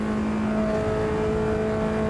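Formula Inter race car engine in Automobilista 2, heard as a steady, loud, close engine whine holding a constant pitch, with no talking.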